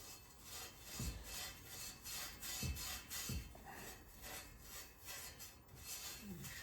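Steel wool scrubs the inside of a Fat Chance bicycle bottom bracket shell, a steady close rasping rub with rhythmic strokes and occasional knocks of the frame, moderately loud with no talking.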